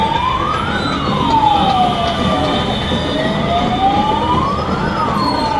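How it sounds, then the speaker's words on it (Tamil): An ambulance siren wails as it passes through a political rally crowd, rising and falling in a slow sweeping pattern, loud and close over the murmur of the crowd. "அந்த ஆம்புலன்ஸுக்கு கட்சி தொண்டர்களும் சரி பொதுமக்களும் சரி எவ்வளோ அழகாக வழி விடுறாங்க"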